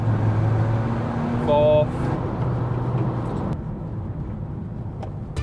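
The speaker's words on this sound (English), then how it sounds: "So we're at 20 mile an hour in sport. It's currently in third gear. And I'm gonna put my foot down." A turbo-upgraded VW Caddy mk5 van pulls hard through the gears in sport mode from 20 mph, its engine drone rising and shifting under steady talk from people inside the cabin.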